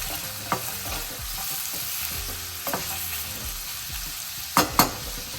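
Onions fry with salt over a high flame, a steady sizzle broken by a few sharp clanks of stirring at irregular moments.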